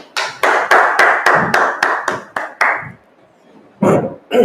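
Members of a street-teaching history class clap together in a loud, steady rhythmic beat, about a dozen sharp unison claps close by, then a short pause before a voice resumes.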